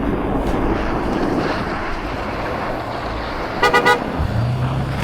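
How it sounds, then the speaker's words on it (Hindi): Wind buffets the microphone over steady road noise, then a quick series of three short horn toots sounds near the end. "कई लोग हॉर्न मारते हैं"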